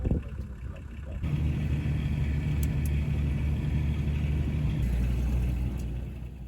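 A 4x4 vehicle drives through Khwai, Botswana, with a steady, loud engine rumble inside the cab that holds for several seconds before easing slightly at the end.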